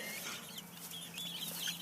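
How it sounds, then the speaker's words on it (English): Chickens cluck softly inside a mobile chicken coop on pasture, a faint, steady chatter of birds heard from close by. "Multiple chickens can come out simultaneously."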